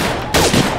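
A single loud, close gunshot in the VR shooting game Gun Club Reloaded bursts out sharply and fades quickly.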